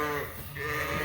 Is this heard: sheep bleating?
yes